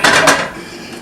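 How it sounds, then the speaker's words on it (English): A few quick metallic taps on a kitchen stove while cooking potato pancakes in canola oil, two bright clinks close by followed by a fading ring, with no voices. "I'm tapping my stove there."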